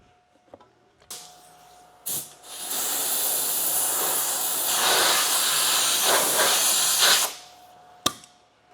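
Eastwood rust treatment sprays in a steady hiss onto bare metal on a vintage Datsun windshield channel, with a couple of short bursts first and then one long continuous spray lasting several seconds, close and loud.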